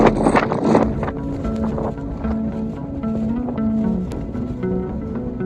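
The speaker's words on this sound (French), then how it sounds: "Il y a du vent de ouf." Strong wind batters the open mountainside near the summit of Pic Boby in Madagascar, a loud, continuous buffeting roar across the microphone with gusty surges, including a heavy blast at the start.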